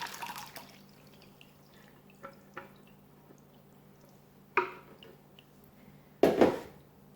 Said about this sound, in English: I'm going to pour what I blended up right into the strainer.